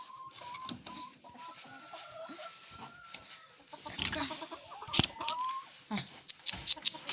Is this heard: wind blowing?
no